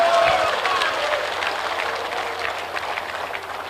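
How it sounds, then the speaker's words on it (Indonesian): An audience at an Islamic religious lecture breaks into steady, dense applause that fades slightly over a few seconds, filling the hall with a broad wash of clapping. "Kalian enak aja tepuk tangan,"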